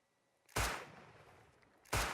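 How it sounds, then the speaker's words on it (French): Two sharp gunshots from the survival video game Rust ring out about a second and a half apart, each a loud sudden blast with a short decaying tail over a quiet background. "si je lui tire dessus"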